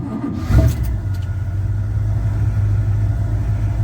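A car engine with about 133,000 miles cranks briefly and fires up, then settles into a steady low rumbling idle, loud and close with no talking.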